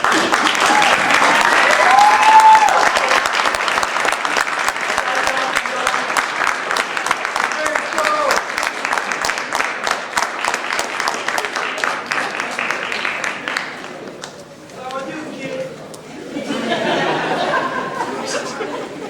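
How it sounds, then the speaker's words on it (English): A Navy medical laboratory technician graduation ceremony audience gives a long, dense round of applause that fades briefly before swelling again, with scattered chatter and murmuring underneath. "give those who supported you a round of applause"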